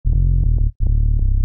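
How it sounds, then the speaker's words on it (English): A deep hip hop bass synth patch built in Ableton's Operator, playing two loud, sustained low notes with a short gap between them, thick and buzzy with a slightly distorted edge, and no voices. "But it's just a really deep bass sound, and it sounds like this."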